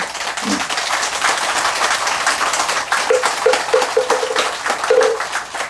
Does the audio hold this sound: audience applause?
yes